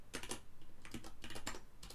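Fast, clattering keystrokes on a computer keyboard while code is typed, close up in short irregular bursts with no talking.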